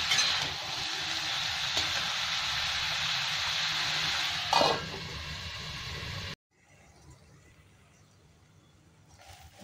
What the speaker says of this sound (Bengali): এটা আবার ঢাকা দিয়ে দিয়ে হবে, এতে কোনো জল লাগবে না,